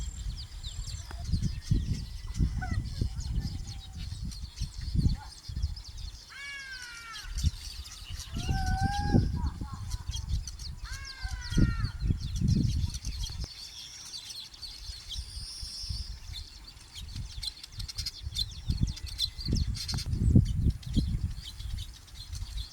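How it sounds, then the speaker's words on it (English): Weaver birds calling around their nests outdoors, with scattered chirps and short twittering calls at moderate distance over a rumbling wind-like background. "Sounds of the weaver birds nesting."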